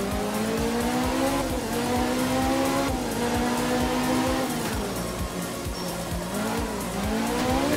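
A rally car in Art of Rally slides through a handbrake turn, its tires squealing loud and continuously over a steady, humming engine note that rises and falls as it skids.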